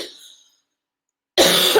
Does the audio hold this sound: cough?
yes